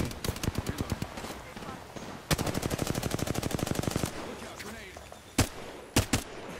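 Gunfire in the battle royale game Apex Legends: rapid automatic bursts with evenly spaced shots, a long sustained volley, then a few single loud cracks, moderately close amid game sounds.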